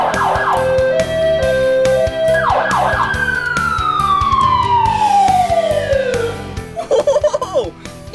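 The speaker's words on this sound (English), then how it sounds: "Check this out down here. The siren. Listen." A loud wailing fire truck siren sweeps up and down through several cycles nearby, then a long falling tone and a burst of rapid yelping as it passes.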